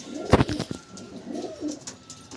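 A Madras or Giribaz pigeon gives low, soft coos while held in the hand, with a sharp handling bump near the start and quieter rounded cooing later, close by with no talk.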